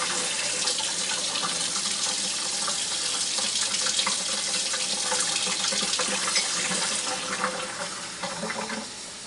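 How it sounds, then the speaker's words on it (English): Hot water running from a kitchen tap in a steady, bright splashing stream for several seconds, easing slightly toward the end. "And you're going to need hot water so that it dissolves."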